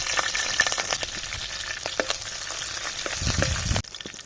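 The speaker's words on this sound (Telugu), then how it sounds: "ముందుగా పచ్చిమిరపకాయలు వేసుకుందాం" Green chillies fry in hot oil with cumin for a tempering, a steady close sizzle and crackle with occasional stirring clinks, ending in a heavier burst of spattering before it cuts off.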